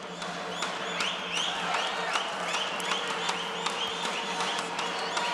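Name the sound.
boxing crowd cheering and applauding after good shots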